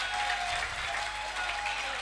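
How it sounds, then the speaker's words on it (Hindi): An audience at a winning-team diamond celebration gives a short burst of steady, even applause that fills the whole moment, with no voices standing out. "आज 10 साल बाद हमारे लिए तालियां बज रही है"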